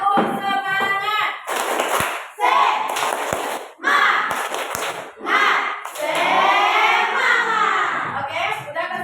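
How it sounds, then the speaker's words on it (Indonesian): Students in a classroom repeat the 'tepuk semangat' cheer, with sharp, close claps landing in a rhythmic pattern between loud chanted voices, some of them children's. "Kita mulai lagi. Tepuk semangat."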